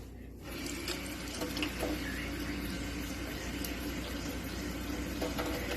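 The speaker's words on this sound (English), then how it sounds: "So what you do is you put water on it and it expands." Water poured onto a compressed seed-starting pellet, a steady wash of trickling and splashing that runs without a break after a brief quiet start.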